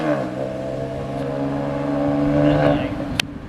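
A Porsche 997 flat-six fitted with a Sharkworks exhaust, a smooth steady harmonic drone that rises slightly in pitch as it revs, then drops away near the end with a brief click.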